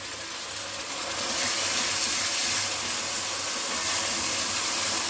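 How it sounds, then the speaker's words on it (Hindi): Paste of ginger, garlic and green chili sizzles in a pan with light golden brown onions, a continuous, even hiss that swells slightly and then holds steady. "अदरक लहसुन का पेस्ट को प्याज के साथ हम 8 से 10 मिनट के लिए कुक करेंगे"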